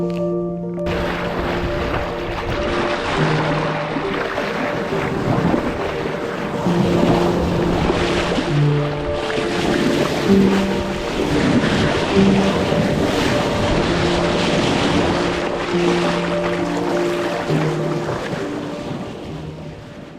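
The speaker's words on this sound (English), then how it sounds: "The boat falls off a wave, but she doesn't slam very much." A sailing yacht surges through waves, with rushing water and wind noise swelling and easing over a steady low hull rumble, close and loud throughout.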